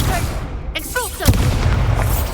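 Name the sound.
Expulso blasting spell explosion in Hogwarts Legacy video game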